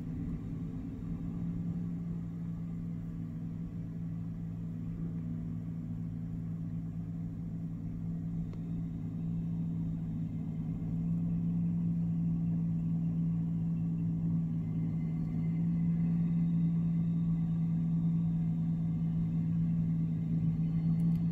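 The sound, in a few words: tractor clearing snow on a street at night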